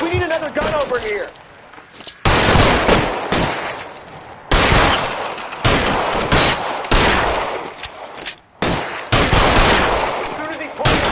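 Heavy gunfight in the detective video game L.A. Noire: loud bursts of machine-gun and rifle fire come in dense rapid volleys with short pauses, close and continuous. A voice shouts briefly at the very start.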